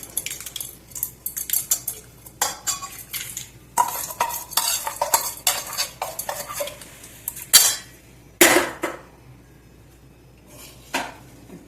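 Spoon scraping and clinking against a metal vessel as tempering is mixed into cooled rice for methi leaf rice, busy irregular stirring with clatters and brief pauses and a faint sizzle underneath.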